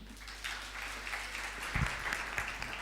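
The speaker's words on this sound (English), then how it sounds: "A hand clap for Joshua." Audience at an awareness-week conference claps after a speech, a fairly faint, steady patter of applause over a low hum with a brief thump partway through.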